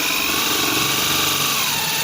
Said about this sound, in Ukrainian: Беремо дрельку.